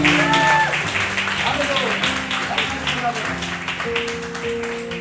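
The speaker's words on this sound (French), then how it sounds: "On peut l'applaudir aussi" Churchgoers applaud during a baptism service, a continuous spread of clapping mixed with held musical or sung tones that linger beneath it and ease slightly in loudness toward the end.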